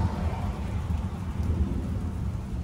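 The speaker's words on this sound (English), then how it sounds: "You hear the thunder now." Heavy rain pours steadily with a low, continuous rumble of thunder underneath, heard through a wide storm wash without any voices.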